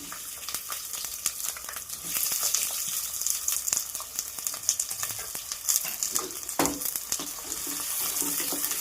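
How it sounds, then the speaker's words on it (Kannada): Onions sizzle and fry steadily in a generous amount of hot oil for mutton chops, a continuous close crackling hiss with occasional stirring scrapes and no talk. "ಈರುಳ್ಳಿ ಗೋಲ್ಡನ್ ಬ್ರೌನ್ ಬರೋ ತನಕ ಹುರ್ಕೊಬೇಕು"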